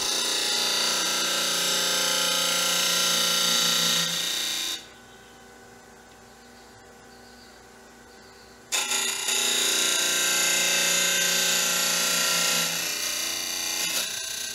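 A power drill whirs steadily as it bores into wood, stops for a few seconds of near quiet, then starts again and runs to the end.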